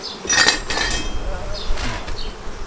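Bees buzzing around a honeycomb inside a hive, intermittent close droning hums rising and fading in short bursts, with quiet talk nearby.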